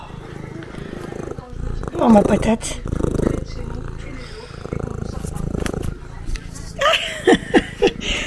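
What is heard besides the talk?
cat purring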